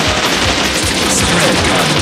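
Rapid machine-gun fire in the video game Bot Vice fills the clip: a loud, continuous stream of dense gunshot bursts with a steady, clattering rhythm and no pauses.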